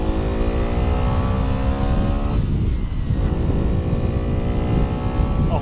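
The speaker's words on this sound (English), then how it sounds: "it's quite a loud bike. It sounds good though, it really does sound good" Loud, steady drone of a Bullit Hero 50cc motorcycle engine while riding, a buzzing, harmonic-rich tone with a brief dip in pitch midway, heard close with wind noise.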